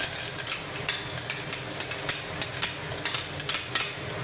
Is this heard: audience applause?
no